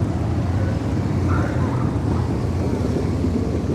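Harley-Davidson motorcycles coasting downhill at a rally in Baildon, a continuous low rumbling drone of engines barely working, fairly loud and steady with wind-like noise.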